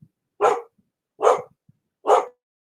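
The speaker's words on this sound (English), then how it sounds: "And of course my dog is barking." A dog barks three times indoors, evenly spaced single barks, clear and fairly close, with near silence between them.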